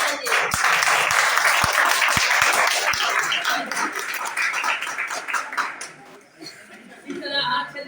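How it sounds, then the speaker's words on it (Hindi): An audience at an institute's student recognition event breaks into loud, dense applause that gradually thins and fades, with chuckles, laughter and voices mixed in. "उसके लिए लंबा ताली बजाइए।"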